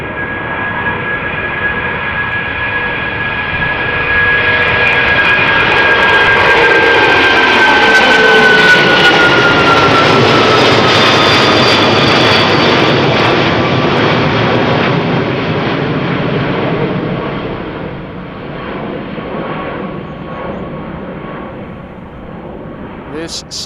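A light, 19-year-old Cargolux Italia Boeing 747 freighter departs Amsterdam Schiphol for Milan, its jet roar swelling to a loud, sustained rumble with a high whine that slides downward in pitch as it passes, then receding into a fading distant drone.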